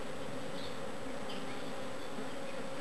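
Honey bees buzz steadily and loudly at close range during a midsummer hive inspection, a dense continuous drone with no voices.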